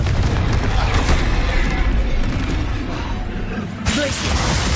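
Dense, continuous booming and crackling spell blasts from Hogwarts Legacy combat, loud and overlapping with barely any pause, one sharper burst near the end.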